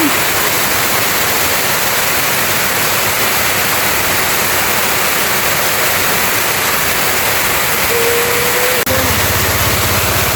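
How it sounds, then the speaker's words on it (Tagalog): Heavy typhoon rain pours down on a farm in a loud, constant roar, with a low engine-like rumble joining near the end. "Lumakas po ang ulan."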